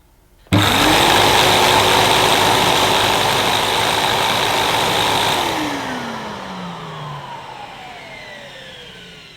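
A Numatic Edward Turbo vacuum cleaner with a turbo electric head starts abruptly, whining loudly and steadily for several seconds before spinning down and fading.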